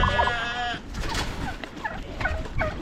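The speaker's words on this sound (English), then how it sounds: "Everybody's tom turkeys are going crazy right now" Several tom turkeys gobble in rattling bursts, one loud and close at the start, others answering farther off, with a steady outdoor background.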